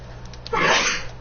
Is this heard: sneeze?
yes